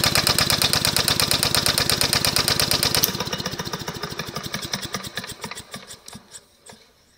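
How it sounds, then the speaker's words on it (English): Two-cycle engine converted to run on steam, spinning under load with a rapid rhythmic chuffing beat that is loud at first, then drops off and slows steadily as it coasts to a stop. "So I'll let it spin up, and then I'll just cut the switch right there and see it spin down."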